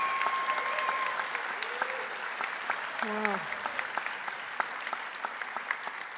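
Audience applause for performers at an evening event, a steady dense clapping that carries through the whole stretch, with a brief spoken exclamation and some voices mixed in partway through.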